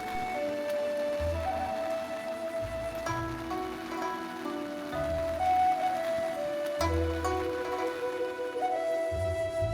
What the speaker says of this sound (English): it started raining almost immediately, and even after waiting for a long time, it never stopped.